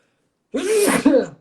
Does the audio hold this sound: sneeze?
yes